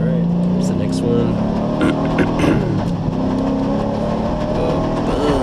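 Drift car engine revving hard while sliding, a loud continuous roar with rising and falling pitch, overlaid by a person talking.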